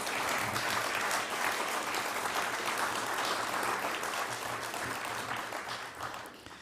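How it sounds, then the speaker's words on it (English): An audience at a City of Prospect council awards ceremony claps for volunteers on stage, a dense, sustained round of applause that holds steady and then begins to thin toward the end. "let's have a massive round of applause for these guys on stage"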